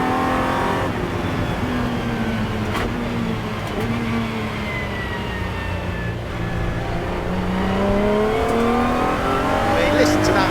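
A Lotus GT4 race car engine howls on a circuit, revving up and down through quick gear changes with rising and falling harmonic tones, loud and close, continuous with a brief voice over it.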